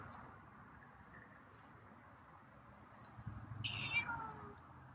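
A single meow from a feral cat rises briefly near the end over a low, steady background rumble.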